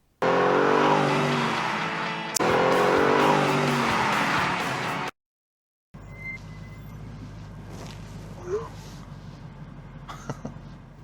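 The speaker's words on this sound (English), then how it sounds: "the engines of Julia's sports car and Harry's Bentley have exactly the same tone" Sports car and Bentley engines roar loudly and steadily for about five seconds, broken by a sharp cut, then a fainter engine rumble returns with scattered squeal-like accents.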